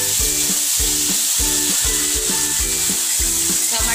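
Chopped onion and tomatoes sauté in a hot pan for Marathi masala khichdi, giving a loud, steady sizzle with rhythmic scraping stirs roughly every half second, close and without talk.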